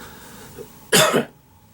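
A single sharp cough, close and loud, breaks a quiet moment with faint room noise around it.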